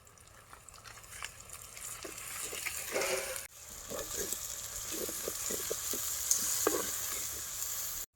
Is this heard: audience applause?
no